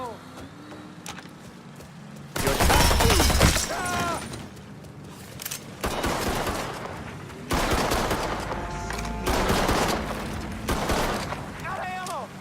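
Gunfire from the video game Mafia 3 comes in several loud bursts of rapid shots, with shouting voices heard between and over the shooting.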